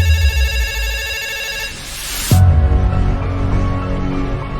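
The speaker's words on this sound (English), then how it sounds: "of a sudden, the phone rang." Telephone ringing in a staged book-trailer scene, a sustained electronic ring heard over a low music bed, with a whooshing swell in the middle before the tone continues.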